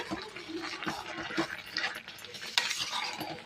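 Chicken sukka is stirred and fried in a kadai, with a spoon scraping and clinking against the pan over a soft sizzle in a home kitchen, in quiet, irregular strokes.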